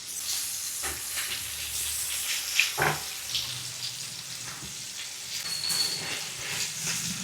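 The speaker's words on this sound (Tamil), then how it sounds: "அது வரைக்கும் அது ஃப்ரை ஆகட்டும்." Crab roast fries in a pan over a medium flame, a steady close sizzle and crackle with occasional stirring or turning noises and no voices.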